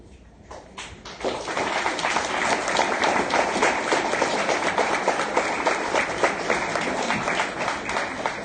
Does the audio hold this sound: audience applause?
yes